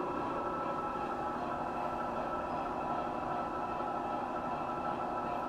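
A steady, continuous mechanical hiss and rumble of a vacuum exhauster from a sound chip in a 7mm O gauge model locomotive, running without pause, loud and close throughout.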